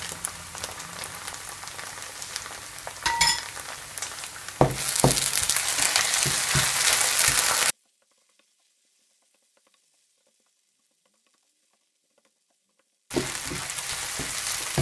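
Onion with tomato paste frying in a pan with vegetable oil, a steady close sizzle that cuts out abruptly to silence for several seconds before the sizzling returns.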